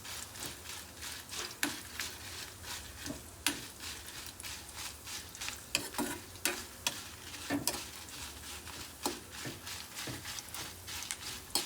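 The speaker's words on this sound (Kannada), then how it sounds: "ಒಣಮೆಣಸನ್ನು ಹಾಗೆ ಚೆನ್ನಾಗಿ ನಾವು ಫ್ರೈ ಮಾಡ್ಕೋಬೇಕು." Dried red chillies frying in a pan for a Konkani dish, a soft continuous sizzle broken by repeated sharp scraping stirs at an irregular rhythm, close and alone without talk.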